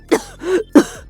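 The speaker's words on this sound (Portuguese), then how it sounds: "E quando ela começa a tossir," Poison Ivy coughs in the Injustice video game: a few harsh, throaty coughs with a strained gasp between them, close and loud.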